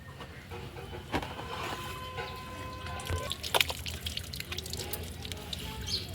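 Water is poured to wash freshly dug elephant foot yam, making faint drips and trickles in quiet outdoor surroundings.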